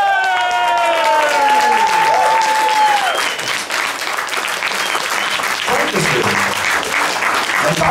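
A large audience at a talent show final applauds loudly and steadily, with a few cheers and whoops rising early on before the clapping settles into a dense roar.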